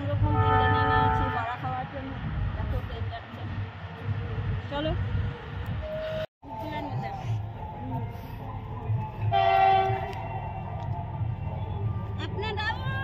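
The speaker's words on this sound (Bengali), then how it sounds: "ট্রেন যাচ্ছে দেখো বন্ধুরা" A train runs along a railway line beside fields, a sustained rumble with horn toots near the start and again later, while people talk over it.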